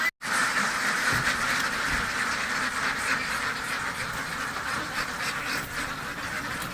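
A large flock of farm ducks in Bogura, Bangladesh, quacks loudly and continuously as they rush out after being released, a dense overlapping clamor close by.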